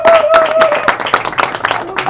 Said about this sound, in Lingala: Est-ce que nous pouvons quand même applaudir au moins pour ce retour?